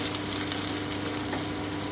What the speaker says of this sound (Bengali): তেলটা কিন্তু গরম হয়ে গেল এতে আমি কিছুটা কুচনো পেঁয়াজ দিয়ে দিচ্ছি